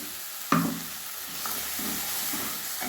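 Cashew paste being stirred into an egg malaikari curry in a pan, a sharp scrape near the start followed by soft, steady sizzling and slow stirring swishes, close and alone.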